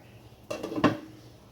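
A metal pot lid is set down over a fish curry simmering on medium heat, giving one short clattering clank that is heard clearly against a quiet room.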